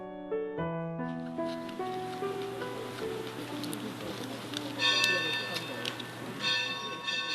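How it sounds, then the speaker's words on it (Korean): Bells ring out through a forest at the Grand Canyon, with clear resonant tones starting alone and then ringing on, mixed with layered overlapping strikes and a faint background hum. "그랜드 캐년의 숲속에 종소리가 울려 퍼집니다."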